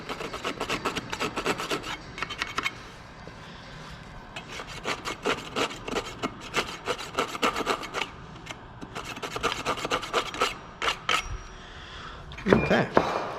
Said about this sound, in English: Again, you can use any one of these saws.